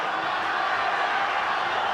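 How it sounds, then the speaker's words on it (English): A packed boxing arena crowd roars without a break during a title fight between Erik Morales and Marco Antonio Barrera, a loud, dense wash of cheering voices with no clear pauses. "The crowd is beside itself."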